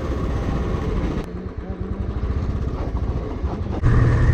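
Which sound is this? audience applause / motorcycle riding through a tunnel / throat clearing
motorcycle riding through a tunnel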